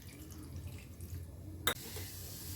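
Water poured from a small vessel onto a lump of tamarind to soak it, a soft running trickle with a brief splash near the middle, close and fairly quiet, with no talking.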